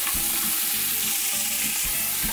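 Chicken curry sizzles steadily in a pan as carrots go in, a close, loud frying hiss broken by rhythmic bursts of stirring and scraping, with no voices.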